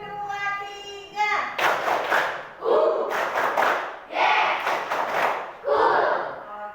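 Classroom rhythmic clapping routine with children: bursts of group claps in counted sets of one, two and three, alternating with a teacher's voice calling the counts and children shouting along.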